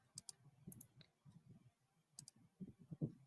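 A few sharp, quiet computer mouse clicks while working in design software, spaced irregularly and heard close up over low background murmur.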